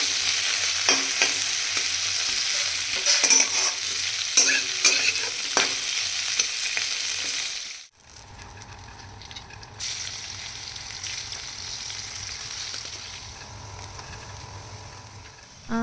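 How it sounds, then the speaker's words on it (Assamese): Tomatoes and raw green peas fry in hot oil in a kadai, a steady close sizzle with stirring scrapes that breaks off briefly midway, then resumes quieter and softer. "বিলাহীখিনি অকণমান গলি যোৱাৰ পিছত দিছোঁ কেঁচা মটৰখিনি আৰু অকণমান টাইম ভাজিলোঁ"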